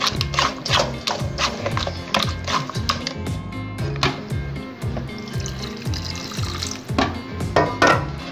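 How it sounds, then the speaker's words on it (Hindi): Water is poured over tamarind and dried plums (aloo bukhara) in a bowl while making imli aloo bukhara sharbat. It is a steady, moderately loud pouring and splashing that runs the whole time, with a rhythmic musical backing underneath. "ये मैंने अभी इसमें आलू बुखारा और इमली इस तरह डाला है तो ये पानी से मैं इसको इस तरह करूँगी"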